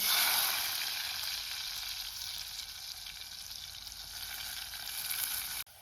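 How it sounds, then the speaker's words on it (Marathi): Chopped onion frying in hot tempering oil in a pot for a fish curry, a steady, close, loud sizzle that runs without a break and cuts off abruptly at the end, with no talking. "तर आता फोडणी घालताय मी कांदो"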